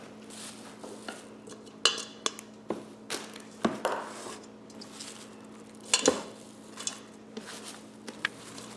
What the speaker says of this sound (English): Once you finish shredding your cabbage, you can add it right to the bowl with the pasta.